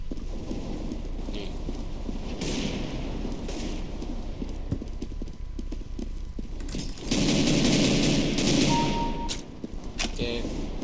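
Rapid bursts of gunfire from the video game CS:GO, with repeated shots and a denser volley partway through, loud and close against a steady game background.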